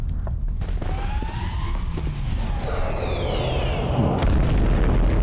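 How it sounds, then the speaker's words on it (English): Explosions in a Skibidi Wars animation boom and rumble with dense, heavy low-end blasts, while sweeping siren-like whines and a chaotic sci-fi mix sound loud and continuous throughout. "Oh, explosions."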